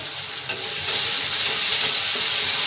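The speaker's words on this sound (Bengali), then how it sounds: "পেঁয়াজকে ভালো করে ভেজে নেব" Chopped onions fry in a pan for a Bengali fish curry, a steady, bright hiss of sizzling oil with faint stirring, close and continuous with no talking.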